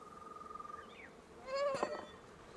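Male honeybee buzzing close by, a faint thin hum that swells into a louder, brief burst of buzzing near the middle before fading, with no talking.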